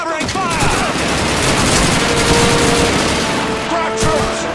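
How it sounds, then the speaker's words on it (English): Dense covering gunfire in Call of Duty 2, a continuous volley of rifle and machine-gun shots close by with a few booms mixed in, loud and unbroken throughout. "give Sergeant Davis and his boys some covering fire!"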